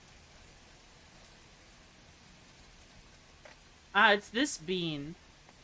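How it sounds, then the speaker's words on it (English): Steady rain makes a broad, even hiss throughout, with a short burst of speech near the end. "Is this TV static? No, it's rain."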